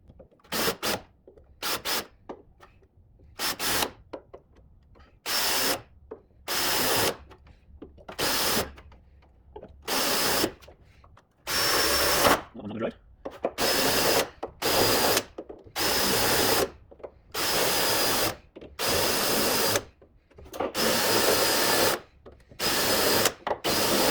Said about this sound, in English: let's start by drilling out a few of these spot welds